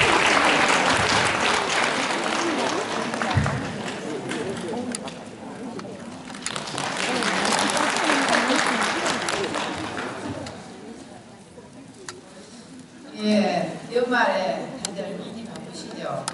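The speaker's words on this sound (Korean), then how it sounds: "부지사님을 큰 박수로 맞이해 주시기 바랍니다" Loud crowd applause at a youth counseling volunteers' event fills most of the stretch, swelling and fading in waves before dying down into a quieter room with a few scattered sounds.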